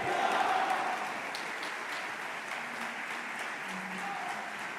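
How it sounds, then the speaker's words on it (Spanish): Audience applauding President Javier Milei after his speech at the Juan de Mariana Prize reception, a broad steady roar of clapping with faint crowd voices underneath, strongest at the start. "Vamos a despedir, por favor, fortísimo aplauso al presidente Javier Milei."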